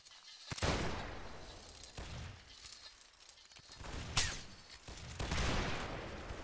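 Musket volleys crackle in a Napoleonic Wars battle game: several ragged bursts of massed gunfire, loud and near, with sharp single reports between them and a dense din of distant shots underneath.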